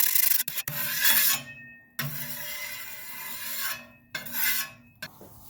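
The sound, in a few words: brushing clean the stainless steel grill grate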